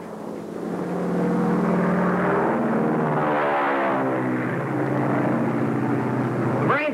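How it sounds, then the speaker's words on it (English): Propeller airplane flying overhead in a 1935 film serial, a steady loud engine drone with a rising and falling harmonic whine that holds for the whole stretch, no voices over it. "Sounds like one of our airplanes."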